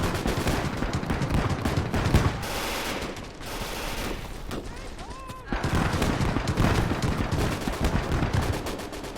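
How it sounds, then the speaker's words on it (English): A German Panzer II autocannon fires rapid, dense bursts in the Gates of Hell war game. The fire comes in two long stretches with a brief lull between them, amid battlefield noise and occasional speech. "Ooh, autocannon from the Germans."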